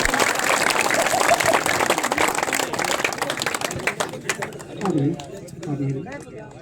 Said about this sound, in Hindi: ताली बजाओ रहे।